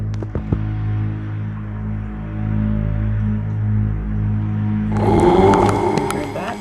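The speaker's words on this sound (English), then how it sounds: "And that is the sound of Ohm." A chanted Om hums low and steady, picked up by a microphone placed inside and muffled. A sharper, brighter burst of noise breaks in near the end.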